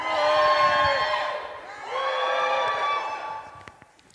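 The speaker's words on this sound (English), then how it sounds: "Give me a cheer and a scream if you think the wizard won the battle." Audience members at a beatbox battle cheer and scream in two swelling waves of shrill, whooping voices, the second surge fading into scattered shouts and a few claps.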